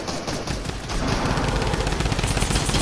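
A drum gun firing in the video game Fortnite, a fast continuous burst of rapid shots that starts after a brief pause and grows louder and denser, running unbroken to the end.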